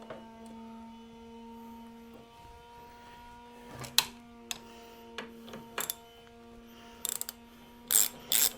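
Bolts on a Harley-Davidson Milwaukee-Eight Softail kickstand run in until lightly snug, heard as short bursts of close ratcheting clicks with pauses between them over a steady low hum.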